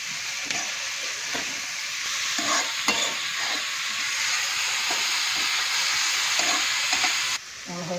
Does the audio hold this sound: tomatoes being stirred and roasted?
yes